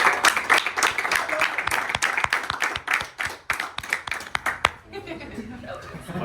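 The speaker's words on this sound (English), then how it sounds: "Give him a round of applause." Hands clap loudly in applause for the jury vote winner at a Survivor finale, sharp close claps in an uneven burst with some chuckling, then trailing off into quiet room tone.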